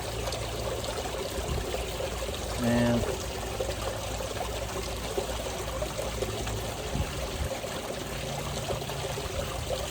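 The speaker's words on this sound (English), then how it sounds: "the water's going fast enough" Water running steadily through a gold pan while black sand concentrates are cleaned, a continuous trickling, pouring stream close by, with someone talking over it.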